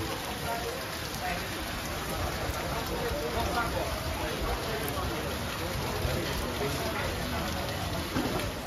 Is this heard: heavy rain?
yes